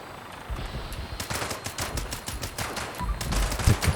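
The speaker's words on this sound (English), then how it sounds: "Take a couple of shots there." A Two Shot Fixer rifle fires in Fallout 76, a rapid string of sharp, close gunshots in irregular bursts that grows louder toward the end, with no talking.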